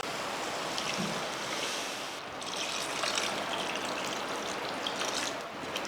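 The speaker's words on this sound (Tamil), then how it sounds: "இப்போ தண்ணி சேர்த்துக்கலாம்" Water poured into oil-separated fried masala for an Indian egg curry, giving a steady rushing, sizzling splash that runs continuously at close range with no talking.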